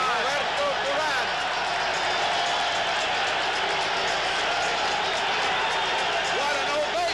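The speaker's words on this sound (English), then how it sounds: "What an ovation. Listen to this crowd." Huge arena crowd roaring an ovation before the 1980 Roberto Duran versus Sugar Ray Leonard boxing fight, a dense, sustained wall of cheering and applause with a commentator talking over it.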